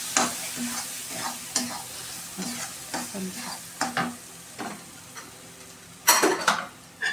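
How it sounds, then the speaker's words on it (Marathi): Grated coconut and sesame-cumin paste stirred into chicken curry in a pan, with a low sizzle and repeated spatula scrapes and knocks, then a louder clatter of scraping near the end. "आता ह्यात मी खोबरं टाकते बारीक केलेलं आणि ह्यात थोडीशी तिळाची जिऱ्याची पेस्ट टाकते बघा। असं एक जीव करून घ्यायचं"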